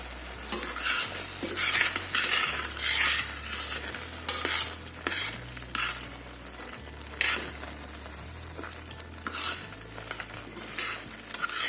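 Red bell pepper sizzles in a pot while being stirred with a utensil, repeated scraping strokes over a steady low frying hiss, close and moderately quiet with no talk.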